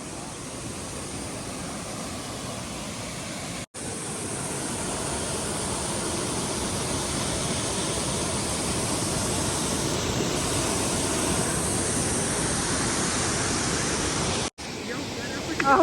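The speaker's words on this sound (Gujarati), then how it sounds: "જો આ છે નાખલનો વોટરફોલ." Waterfall at Nakhal in Kawant during the monsoon, roaring as a steady, loud, broadband rush of falling water that fills the whole scene, close and continuous, with two brief dropouts.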